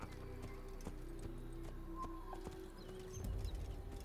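Horse hooves clip-clop in a steady rhythm in the video game Assassin's Creed, faint and soft, with a low rumble beneath and a brief neigh-like call.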